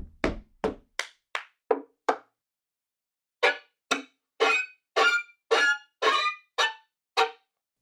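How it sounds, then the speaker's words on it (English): Sharp bowed fiddle string strikes, percussive chop technique, come in two bursts of short, evenly spaced scratchy chops, crisp and close, with silence between groups. "Percussives and chops are techniques fiddlers use to keep time."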